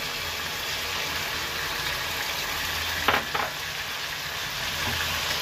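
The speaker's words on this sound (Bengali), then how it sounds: "দু 1 মিনিট ভালোভাবে আদা রসুন আর মাংসটা ভুনে নিলাম।" Mutton with ginger and garlic fries in a pan for a bottle gourd curry, a loud continuous sizzle close by, broken by a brief clatter of stirring partway through.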